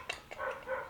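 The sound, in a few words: dogs barking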